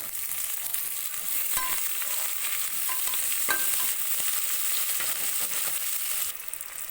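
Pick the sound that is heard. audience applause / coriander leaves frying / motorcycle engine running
coriander leaves frying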